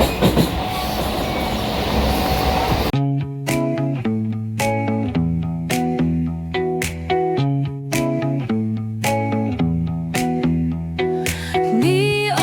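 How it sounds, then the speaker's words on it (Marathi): Rhythmic clickety-clack of wheels on rail joints inside a crowded, moving Indian passenger train, steady carriage rumble with regular sharp clicks, a burst of rushing noise at the start, no speech. "तर फ्रेंड्स फायनली ट्रेनमध्ये उभा आहे, कारण गर्दी जास्त असल्यामुळे बसायला जागा वगैरे नाही आहे."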